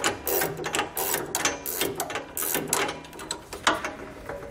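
Rapid, rattling ratchet clicks come in short bursts as a tool spins an end link nut off the front anti-sway bar of a 2016 Nexus vehicle, close and sharp with brief pauses between runs.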